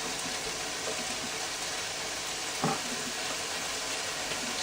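Bacon frying in a pan for a breakfast cook-up, a steady even hiss and sizzle at close range, with one brief louder crackle partway through.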